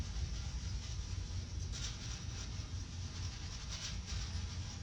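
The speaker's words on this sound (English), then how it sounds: "It really does sound like a train." Low, steady train-like rumble in the Spider-Man: Miles Morales video game, a continuous dense roar with faint rattling bursts near the middle and end, no talking over it.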